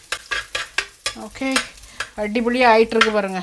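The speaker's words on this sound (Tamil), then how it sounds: "வெள்ளைப்பூடும் சின்ன வெங்காயமும் போட்டு அது ஒரு நல்ல ஒரு வதக்கணும்." Garlic and shallots sauté in a pan with an ongoing sizzle and occasional stirring scrapes, while a person talks over most of it.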